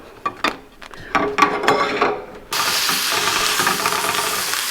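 Tortillas crisping in a hot pan while steak is cooked: scattered clinks and scrapes give way to a loud, steady hiss of steam and sizzle that runs to the end, close and without talk.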